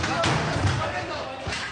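Police force an apartment door open during a raid on a suspect, with several heavy thuds and slams up close mixed with voices and commotion.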